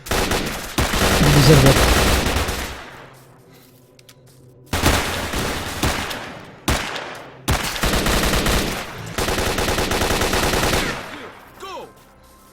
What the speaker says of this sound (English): Check your weapons and fire at will.